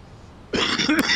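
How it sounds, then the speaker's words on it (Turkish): A single close cough bursts out after a quiet stretch of background hum, loud and abrupt with a short throaty tail, heard during a home flight-simulator session of an A320 approach. "Öksürdüm, ciğerlerim iyi çıktı"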